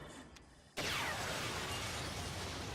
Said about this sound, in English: Wow, the timing of that explosion was too perfect.